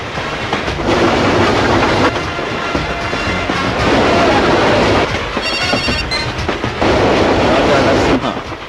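Film-scene train runs fast on the rails, its loud steady rumble and clattering wheels carrying throughout, with occasional metallic squeals and bursts of intensity.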